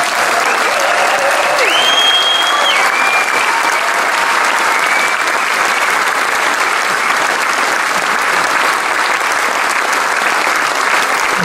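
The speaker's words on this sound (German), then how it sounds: "Und ich möchte den beiden einen grossen Applaus vermitteln." Audience at a blues festival in Basel applauding, a loud dense sustained clapping that fills the whole stretch without letup.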